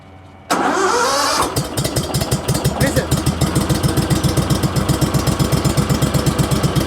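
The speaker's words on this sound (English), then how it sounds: "You wanna hear the Harley? Yeah, let's hear the Harley." A Harley motorcycle engine cranks and catches with a sudden loud burst, then settles into a rapid, rhythmic, loping idle. Up close, the steady, lumpy exhaust pulses run to the end.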